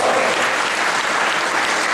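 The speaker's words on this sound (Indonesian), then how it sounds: "Berikan tepuk tangan bagi Tuhan Yesus" Dense, steady audience applause at a church seminar in Kupang, a continuous wash of many hands clapping close and loud throughout.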